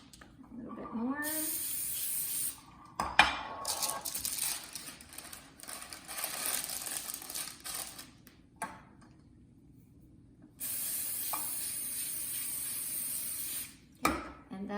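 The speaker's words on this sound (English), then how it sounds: "First we'll spray the bottom a little bit with some oil so that it will stick." Cooking oil is sprayed onto the bottom of a baking pan in a home kitchen, with short, sharp hissing bursts separated by quieter pauses while someone talks.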